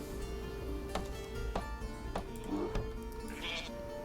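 Sheep bleating in the strategy game Northgard, a couple of faint bleats among light clicking interface taps over a quiet ambient bed.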